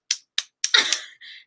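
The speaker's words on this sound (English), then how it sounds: "This is me clapping." Three sharp, isolated hand claps spaced evenly apart, followed by a brief flurry of claps and a short tonal sound, close and fairly quiet.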